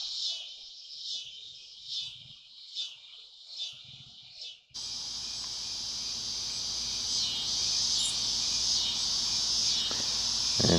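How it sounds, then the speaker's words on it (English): Loud evening insects, crickets, recorded on an Ordro AX60 camcorder. Pulsing chirps come first, then a dense, continuous shrill buzzing chorus takes over and stays steady throughout. "Can you hear those crazy insects?"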